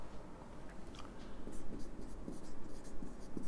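Pen writing notes on paper during a Hindi history lesson, a steady close scratching with short strokes and pauses, quiet and alone with no talk.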